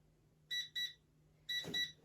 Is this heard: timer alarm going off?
yes